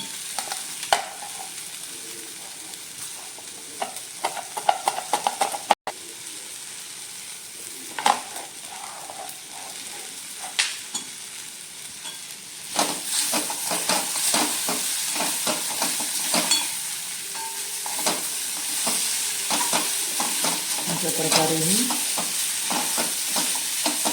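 Okra and potato pieces stir and fry in a hot pan with oil, giving a continuous sizzle broken by scraping spatula strokes and clinks. The frying grows denser and louder in the second half.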